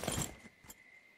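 A bunch of keys is picked up in the video game Firewatch: a brief metallic jangle at the start, close and fairly clear, fading quickly into quiet.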